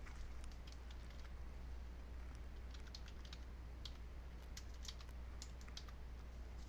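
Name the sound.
typing on a computer keyboard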